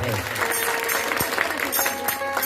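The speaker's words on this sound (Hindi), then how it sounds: "तो अगर पसंद हो तो एक बार जोरदार ताली के साथ है" Audience applause at a Holi-day folk song programme in India, a steady wash of clapping that runs under music and voices throughout.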